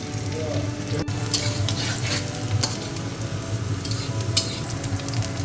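Onions fry in hot oil, reddening in a pan, with a steady close sizzle and repeated scraping stirs, plus one sharp click near the start.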